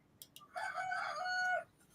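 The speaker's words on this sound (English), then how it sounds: "I heard a rooster in the background." A rooster on a ranch crows once, a clear drawn-out call heard at moderate distance over a soft background hiss, preceded by a couple of faint clicks.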